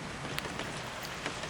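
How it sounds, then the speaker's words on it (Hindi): Rain falling steadily in a dense, even hiss, with a few louder drops standing out. "अपने अंदर का जमा हुआ पानी के भारी हो जाने पर उसे नीचे गिराने लगती है, जिसे कि हम लोग बारिश कहते हैं"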